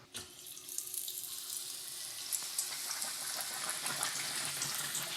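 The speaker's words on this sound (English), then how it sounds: "we're just gonna fry this for about a minute until it's looking crispy and golden all over" A battered BBQ chicken quesadilla deep-fries in hot oil, giving a loud, steady, close-up hiss and crackle that fills the whole stretch without a break.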